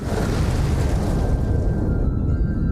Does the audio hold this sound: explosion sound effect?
yes